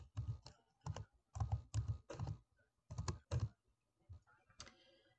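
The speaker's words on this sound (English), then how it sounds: "I'm going to start typing" Keys clack on a computer keyboard during a craft project in short, evenly paced clusters of taps with brief pauses between them, close and clear with no talking.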